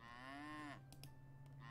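Cattle mooing in a farming video game: one drawn-out, loud moo ends abruptly, followed by quieter game tones and soft clicks, with no talking.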